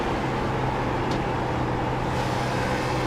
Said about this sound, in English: You can hear all that off throttle time from Gary Lipinski.